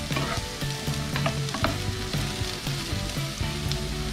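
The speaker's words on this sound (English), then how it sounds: "So, all you have to do is saute or fry it" Potato pieces fry in a generous amount of oil in a skillet for a potato adobo with mushrooms, giving a steady, close sizzle and crackle throughout, with a low hum and occasional stirring clinks underneath.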